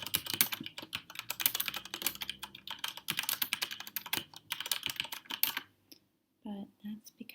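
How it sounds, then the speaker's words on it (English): Rapid, continuous clatter of keys on a mechanical keyboard, close and fairly loud, running in dense bursts for about six seconds before stopping, followed by a few soft sounds after a brief silence. "I know I've been typing really quickly."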